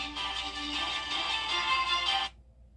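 A phone ringtone plays a bright electronic tone, steady and fairly loud for a little over two seconds before cutting off, leaving faint low hum, with no voices.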